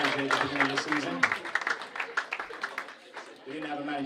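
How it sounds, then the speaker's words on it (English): An audience at an awards presentation night applauds the club's manager with scattered, moderately loud clapping, blended with voices talking before and after. "So round of applause for Matt."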